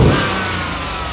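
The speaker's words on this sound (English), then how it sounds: "If we were to floor the throttle like right now," A car engine roars loudly and close as the throttle is floored, a dense surge of revving that eases slightly over about a second, with no talking.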